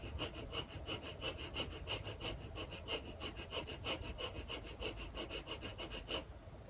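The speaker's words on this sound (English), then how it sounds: "This is called the breath of fire, Bhastrikā Prāṇāyāma." Breath of fire, a rapid yogic breathing exercise: quick, forceful nasal exhalations repeat in an even fast rhythm, close and breathy, with no speech.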